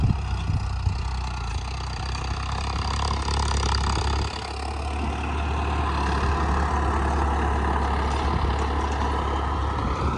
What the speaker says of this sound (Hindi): ये ट्रैक्टर आप देख सकते हो भाई, इसकी आवाज़ सुन सकते हो।